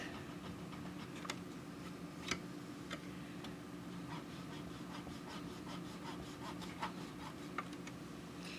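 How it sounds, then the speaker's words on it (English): An eraser rubs grime off the contact points of an NES, giving faint, irregular scratchy strokes with occasional sharper ticks over a low steady background hum. "to see how clean you can get it with just an eraser"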